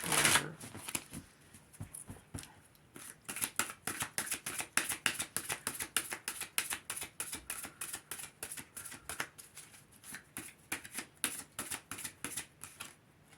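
Rapid riffling tarot card shuffles repeat in quick bursts, crisp papery flutters close up with short pauses between, no talking.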